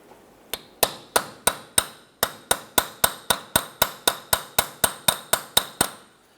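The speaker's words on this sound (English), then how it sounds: "I'm going to use a brass punch in the center of our axle" Sharp metallic hammer blows on a brass punch set in the center of an axle during front lower control arm work on a 2015-2020 Cadillac Escalade. Twenty-one close, loud, ringing strikes land in a steady, fast rhythm, with no talk.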